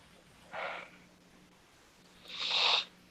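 Two close, breathy sniffs, a short one followed by a longer, louder one, with quiet background in between.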